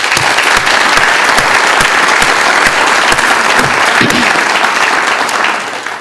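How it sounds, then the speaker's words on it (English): An awards banquet audience giving a loud, sustained round of applause, dense clapping from many hands filling the room before tapering off at the end. "Will you join me with a round of applause to recognize that hard work"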